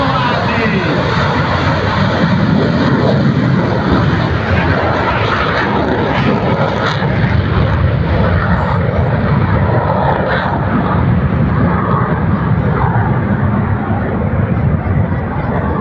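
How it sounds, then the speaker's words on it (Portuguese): Military jet taking off at Anápolis air base during an open-gates day: a loud, continuous roar of aircraft engines swells and holds throughout, with people speaking underneath. "E lá vai ele, pessoal! Vamos acompanhar essa decolagem!"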